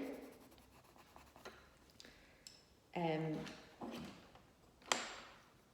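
A pencil scratches and rubs across paper while drawing a leaf, with soft, short strokes in an uneven rhythm between quiet pauses; a voice speaks faintly in between.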